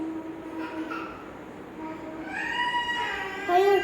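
A train rolls past in the mobile shooter Free Fire, a steady rumble that swells toward the end with rising tonal whines, while a player talks over it.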